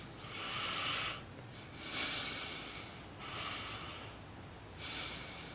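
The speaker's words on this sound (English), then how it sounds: "then you can cover the tip of the stem with your tongue and block the air hole, and then you can breathe out your nose." Air pushed out through the nose while a pipe stem is blocked with the tongue, four long soft breaths at a steady pace, close and hissing, with no talk.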